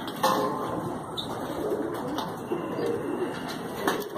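Pigeons in a small home loft coo softly and repeatedly, with occasional brief chirps and a faint wing flutter, close by and without talk over them.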